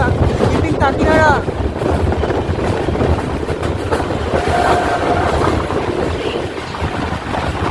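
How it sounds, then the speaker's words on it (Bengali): Purbanchal Express from Kolkata rolls along at about 110 km/h, its steady loud rumble and rhythmic clickety-clack of wheels on rail joints filling the whole stretch, with brief squealing tones early on. "ট্রেন কিন্তু আমাদের 110 কিলোমিটার প্রতি ঘন্টায় স্পিড মেনটেন করছে প্রায়।"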